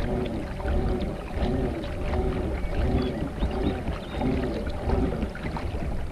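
A Feelfree Flash pedal kayak moving through water, with a steady rhythmic splashing and swishing that repeats about every second. The sound is close and continuous, with no voices.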